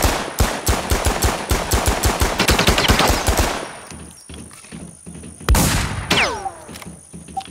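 Rapid, loud bursts of gunfire from a Mossberg shotgun in the video game WarZ, a dense stream of shots for several seconds, a pause, then another sharp blast with ringing tails.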